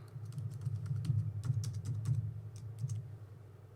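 Fast, irregular clicking of keys on a computer keyboard as a username and password are entered, steady and close with no talking.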